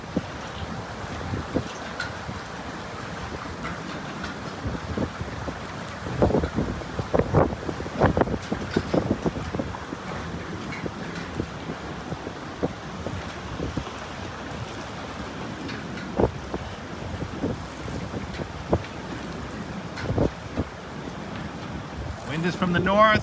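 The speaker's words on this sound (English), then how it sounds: "Experiencing more waves than snow." Storm waves crash against the Scituate seawall under a north wind as the tide goes out. Heavy wind buffets the microphone, and irregular surges and splashes rise from a constant roaring, rushing background.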